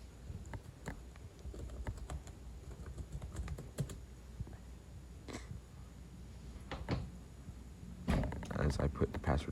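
Fingers tap out a password on a MacBook keyboard in quiet, irregular clicks, followed near the end by a denser flurry of keystrokes, with soft room noise underneath.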